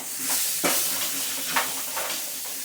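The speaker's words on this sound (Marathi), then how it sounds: "फोडणी मी घालून दिले, ती फक्त परताले ते घालून त्याच्यामध्ये. आता गरम पाणी घाल त्याच्यात." Steady, loud sizzling and hissing fill the clip, with a few sharper bursts as hot water hits a hot pan of spice tempering.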